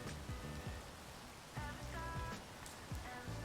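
Rain in the Space Engineers video game comes across as a steady, hissing static-like noise, fairly quiet and continuous, with faint low tonal game sounds underneath.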